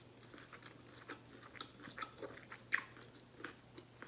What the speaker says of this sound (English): let me give y'all a bite with some sriracha